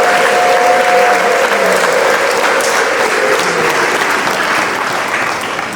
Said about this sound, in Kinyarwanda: Mureke tuyikomere amashyi cyane.